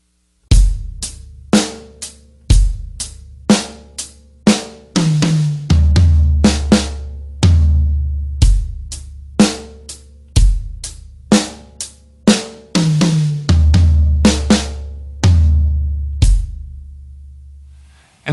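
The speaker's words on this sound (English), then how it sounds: "We start on the snare, move to the high tom, move to the floor tom, back to the snare, and then the floor tom" A drum fill played across snare, high tom and floor tom, returning to snare and ending on floor tom: a steady run of sharp, close, loud hits with ringing tom decays, repeated several times with no voices.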